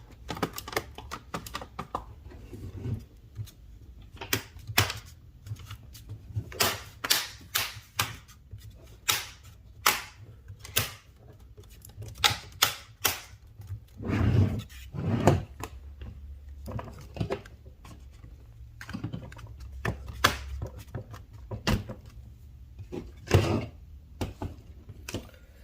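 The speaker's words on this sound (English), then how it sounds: "we're going to work around from the opposite way we popped it apart. We're just going to pop it all back together again." A Dell Inspiron laptop's bottom cover is pressed back into place, producing scattered sharp plastic clicks and snaps, some in quick pairs, others spaced seconds apart, close and fairly crisp.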